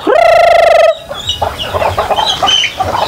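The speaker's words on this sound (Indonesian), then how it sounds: "Ini ayam-ayam sebelum dapat makan bising juga sini" A loud, drawn-out crowing call opens, followed by a busy chorus of hungry chickens clucking nearby before feeding.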